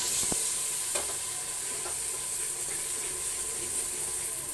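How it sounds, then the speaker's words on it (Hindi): Onion and spice masala of red chilli, coriander powder, salt and cloves frying in a pan, a steady close sizzle with a few sharp spoon taps and scrapes against the metal, no voices. "ये देखिए हमारा मसाला बहुत अच्छे तरह से भून चुका है और प्याज भी गल चुका है।"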